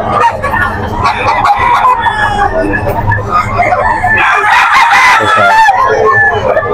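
Several Sweater-Gilmore cross roosters crow loudly and repeatedly, overlapping one another nearby, with clucking and a voice or two mixed in the background.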